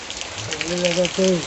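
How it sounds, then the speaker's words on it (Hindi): Heavy rain falling in big drops makes a steady broadband patter, close and constant, while a person talks over it. "देख सकते हो झड़ी है पूरा बड़े बूंद में बदल गए हैं।"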